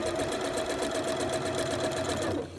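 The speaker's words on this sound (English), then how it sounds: "I'm going to sew all the way forwards and then all the way backwards" A sewing machine stitching a pocket onto fabric runs in a fast, even, continuous rattle close by, then stops abruptly at the end.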